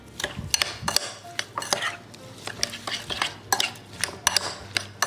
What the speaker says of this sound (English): then we'll stir this all together